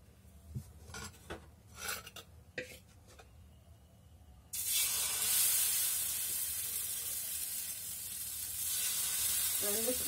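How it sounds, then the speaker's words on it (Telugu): Dosa batter for a ghee egg dosa hits a hot pan partway through with a sudden loud, steady sizzle, after a few scattered clinks and scrapes of utensils. "ఇప్పుడు నేను మళ్ళీ దోశ అనేది వేస్తాను"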